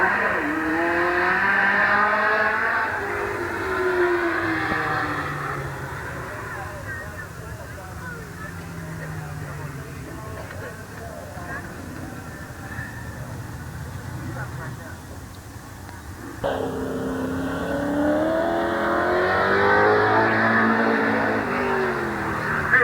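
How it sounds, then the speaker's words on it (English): A race car circles Midvale Speedway during qualifying at the 1988 fall classic, its engine note rising and falling as it passes, loud throughout, with a track announcer talking over it. "All right, Terry Adams having mechanical problems, so next qualifier, number 59, Gary Whipke."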